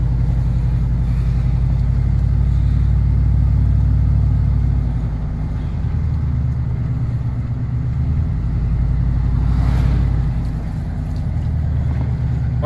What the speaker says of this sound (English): Still shifts hard, and I don't know why.